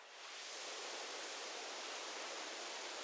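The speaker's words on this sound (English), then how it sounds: "The sound and visual delight of falling water is one of the great joys of Rainier" Steady rushing roar of a waterfall on Mount Rainier, water falling over rock in a dense, continuous wash that swells in at the start and holds constant with no voices.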